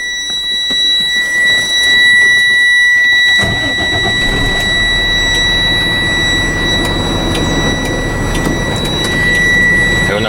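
A truck engine cranks and catches during a pre-trip safety start, settling into a loud rumbling idle while a steady high-pitched low air pressure warning buzzer sounds continuously throughout.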